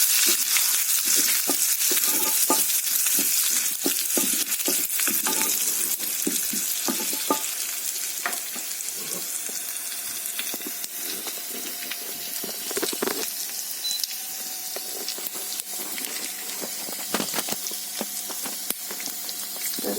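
Cashews and curry leaves frying in hot oil in a pan for varagu rice pongal, a crackling sizzle with sharp pops and spatters throughout, close and steady, gradually settling slightly softer.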